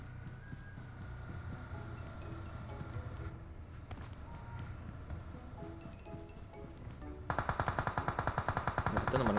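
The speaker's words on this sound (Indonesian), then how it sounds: "Nah, itu teman gue yang nembak." Rapid bursts of gunfire in the video game PUBG erupt near the end after quieter ambient rustling, loud and staccato in quick succession.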